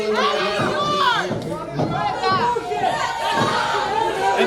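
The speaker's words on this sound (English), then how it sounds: "And the crowd is showing their disapproval." A pro wrestling crowd at an American Championship Pro Wrestling show voices disapproval, a continuous roar of mixed voices and chatter that swells and dips at full loudness throughout.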